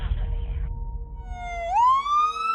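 An emergency ambulance siren starts as a steady tone, then sweeps up into a loud, rising wail close by, with a brief rumble of noise just before it.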